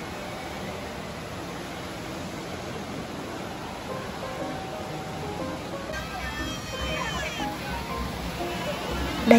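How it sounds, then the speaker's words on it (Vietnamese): An indoor decorative waterfall in a shopping mall in Guangzhou, a constant broad rushing hiss of falling water filling the space, with faint background mall ambience and a brief sound at the end. "Cái tiếng ồn ồn đó là tiếng thác nước chảy á mọi người."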